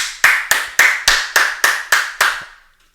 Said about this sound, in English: That's why I had to clap it up.